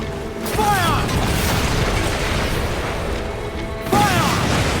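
Ship cannons booming in a naval battle in Assassin's Creed Black Flag, broad loud blasts layered over continuous battle noise and shouted voices, with a fresh burst near the end.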